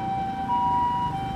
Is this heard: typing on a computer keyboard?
no